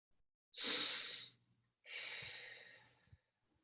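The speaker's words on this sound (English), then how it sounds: "let's just breathe into that couple breaths." Two slow, deliberate breaths during a guided breathing moment at the close of a podcast interview: a long, airy inhale-exhale followed by a second one after a short pause, close and soft, with no talking.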